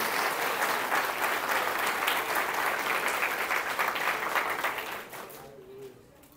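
Church congregation at a Sunday evening service applauding their pastor, a sustained roomful of clapping that fades toward the end, with voices faintly mixed in.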